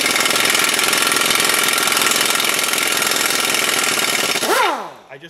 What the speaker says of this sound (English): I just can't stress how easy an air gun makes it